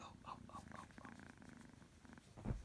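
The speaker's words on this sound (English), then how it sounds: "You listen to that purr" A close, soft cat purr rumbles continuously in a steady rhythm, with a brief louder thump at the end.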